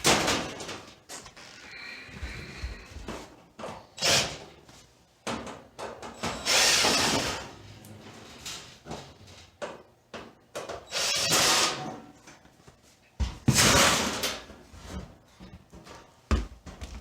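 A power drill backs sheet metal screws out of the rear panel of an Amana stove in repeated short whirring bursts, close and loud, separated by pauses with clanks and handling noises.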